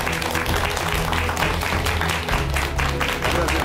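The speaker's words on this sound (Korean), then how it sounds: "여러분 큰 박수 부탁드립니다." A studio audience at a Korean talk show breaks into sustained, dense clapping as a guest is welcomed onstage, loud and continuous with background music and murmurs mixed in.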